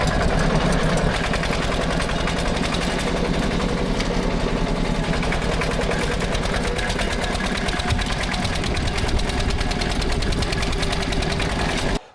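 Porsche Junior 108 tractor engine running steadily with a dense, rapid mechanical chatter, loud and close, held for the whole stretch with no talk over it.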